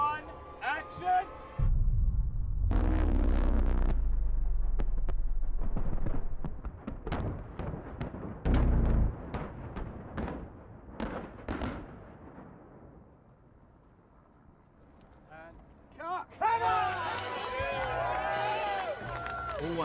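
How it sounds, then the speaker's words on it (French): Large pyrotechnic explosion set off for a movie stunt scene: a long, heavy rumbling blast with crackling debris and bursts, fading to quieter rumble, then excited crowd voices and cheering at the end. "Largest explosion in the history of movies"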